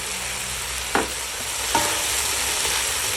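Ground meat sautéing in a pan with garlic, onion and tomato, a steady close sizzle with two sharp scrapes of a spatula stirring, no voices.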